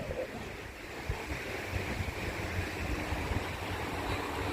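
Water rushes steadily past a replicated mill water wheel at Zehnder Park in summer, a continuous broadband roar of flowing and churning water that stays close and fairly loud throughout, with no talking.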